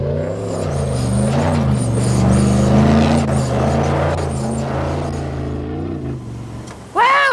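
A Ranger UTV engine roars steadily off-road, loud and close with a rising and falling drone, ending in a sharp mechanical whine near the close.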